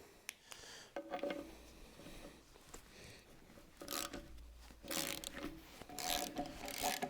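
A ratchet wrench clicks in quick bursts while loosening bolts and nuts on an oversized pedestal grinder, the ratcheting coming close and fairly quiet in intermittent runs separated by short pauses.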